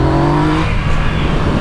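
A motorcycle engine revs hard nearby, a loud throaty burst with a rising tone that breaks off partway into rougher, uneven engine noise, with no speech over it.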